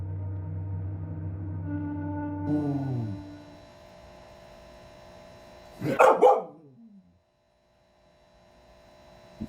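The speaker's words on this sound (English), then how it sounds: "The creepy footage shows the uploader's pet dog barking and freaking out over something that it seems to notice outside" A pet dog barks and freaks out at something outside, heard as a short, loud cluster of barks after a steady electrical hum that fades to near silence.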